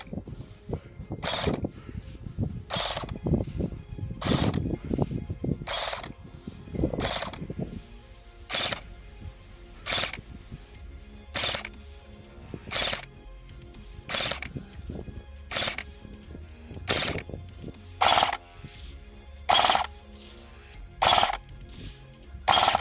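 ARES M60a4 airsoft machine gun firing bursts at a target about 120 feet away, a steady run of sharp mechanical cracks repeating roughly twice a second, close and loud with no talking.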